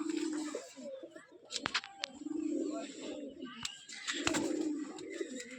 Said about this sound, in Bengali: লাল সুন্দরী মাদি কবুতর